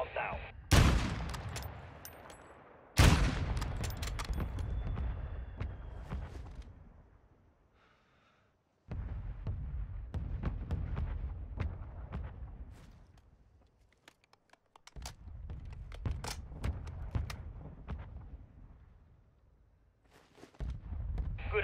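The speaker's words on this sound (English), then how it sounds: "Mortar strike inbound now." Mortar strike explosions in a video game come as several heavy booms with long rumbling tails, spaced a few seconds apart. They are loud and close, separated by quieter gaps.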